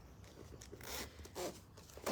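A zipper on a sewing project for a double cosmetic pouch is handled up close, giving quiet scraping, rasping pulls in a few short bursts with no talking.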